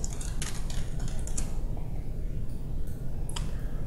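Keystrokes clatter on a computer keyboard in short bursts of close, crisp clicks, then pause and return with a few scattered taps over a low background hum.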